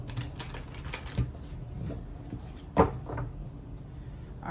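Tarot cards are shuffled by hand, giving quiet, close riffling and soft tapping bursts in an irregular rhythm, with one sharper snap partway through.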